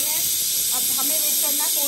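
A pressure cooker on a gas stove gives off a loud, steady hiss of steam throughout, with faint voice-like tones mixed underneath.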